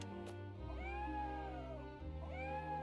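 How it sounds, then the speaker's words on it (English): A cat in a video game meows twice, close and clear, with drawn-out tonal cries over a steady low hum, the second call beginning near the end. "There's a cat in every area so far."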